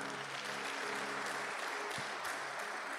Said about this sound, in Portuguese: Pode dar um aplauso ao Senhor?